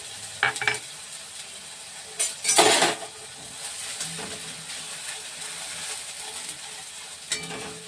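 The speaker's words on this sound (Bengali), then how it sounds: "পেঁয়াজ বাটা দিয়ে দিলাম আড়াই চামচের মতো পেঁয়াজ বাটা দিলাম" Onion paste sizzling and being stirred in a hot pan for chicken korma, a steady soft fry broken by a few louder scraping stirs, close and alone with no talk.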